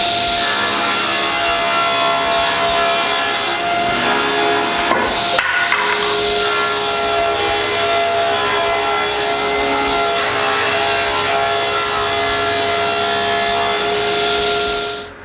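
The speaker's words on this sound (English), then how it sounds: "Then I cut plywood pieces to size." A power saw cuts plywood pieces to size in a woodworking shop, a loud, continuous whine and rasp running steadily throughout with a brief shift partway through, no voices.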